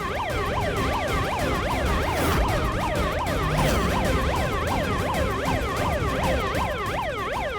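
A child's bicycle horn plays a police siren sound, a loud rapid wailing tone that cycles up and down continuously and close by.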